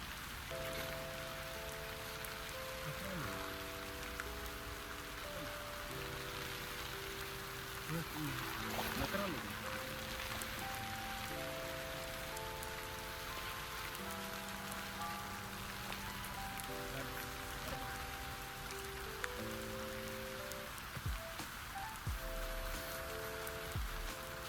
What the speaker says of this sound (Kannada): ಒಳಗಡೆ ಆಚೆ ಕಡೆ ಹೆವಿ ಮಳೆ ಸ್ಟಾರ್ಟ್ ಆಗೋಯ್ತು ಫ್ರೆಂಡ್ಸ್